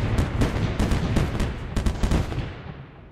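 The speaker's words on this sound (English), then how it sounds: "it's gonna be a lot of artillery noise" Artillery turrets in the tower defense game M.A.C.E. fire repeatedly, a steady series of heavy booming shots in quick irregular succession that fade out toward the end.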